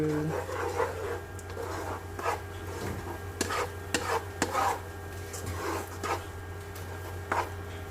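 Flat rice noodles are tossed and scraped around in a hot ceramic wok, with repeated clattering strokes and a soft sizzle underneath, close and steady.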